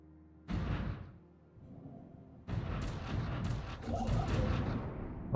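Long-range weapons on spaceship fleets fire in the Stellaris video game, with a deep booming volley followed by a longer run of layered blasts and rumbling impacts, at a moderate level with no talk.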